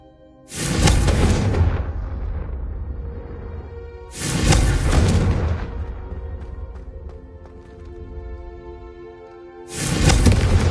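Three loud, sudden fiery blasts of the Confringo spell strike candelabras in the Hogwarts Legacy video game, each a booming burst with a crackling, ringing tail that slowly decays, spaced about four seconds apart and heard without speech.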